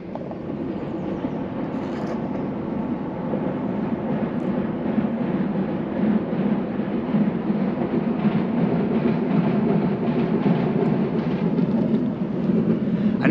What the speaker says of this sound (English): Here's a train crossing the bridge.